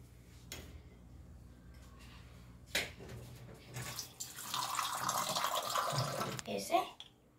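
A drinking-water tap in a home gushes for a few seconds after some quiet clicks and handling sounds, then cuts off.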